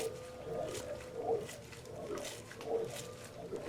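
A Thunderbolt A2-4M blower, freshly rebuilt with new greased bearings, spins with a steady mid-pitched whirring hum. The sound swells and fades in slow surges about every second and a half.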